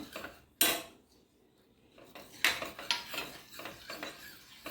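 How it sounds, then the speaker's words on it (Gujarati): Raw mango drink mixture stirred in a pot, grated mango and jaggery: a sharp metal clank followed by repeated scraping and clinking strokes of a spoon against the pot, close and fairly loud. "આ જુઓ, આને સરસ હલાવવાનું છે, આવી રીતના બરાબર મિક્સ કરી દેવાનું છે."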